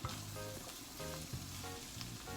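Mushrooms sizzle and fry steadily in a hot pan while being cooked for a spaghetti sauce, with a continuous crackling hiss and occasional stirring scrapes, close and alone.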